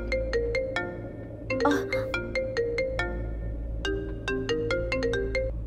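A mobile phone ringing with a bright, repeating electronic melody of plucked tones over a low steady hum, loud and close, with no voices.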